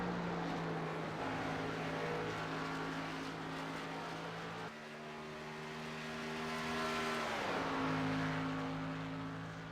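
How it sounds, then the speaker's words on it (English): The number 99 race car's engine drones steadily as it rolls out onto the track, its pitch stepping and sliding as the revs change, with no voices over it. "Erik Teske in the 99 machine is just now started rolling out"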